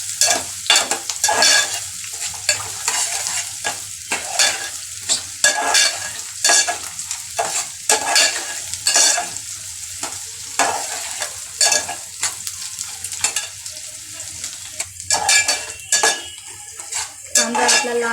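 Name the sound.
finely chopped onion frying and being stirred in pan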